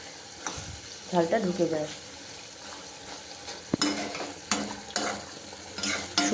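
Pointed gourd (potol) frying in a pan for a spicy potol jhal, sizzling while a utensil stirs and turns the pieces with scraping knocks against the pan, under a woman's brief speech.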